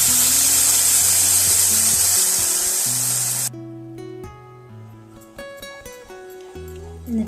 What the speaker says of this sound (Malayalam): നമുക്കിതിലേക്ക് കുറച്ച് പാലൊഴിച്ച് കൊടുക്കാവേ